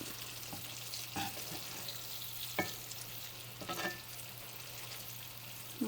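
Green tomato slices frying in a hot pan, a steady sizzle running under a few sharp crackles and pops, heard alone without talk.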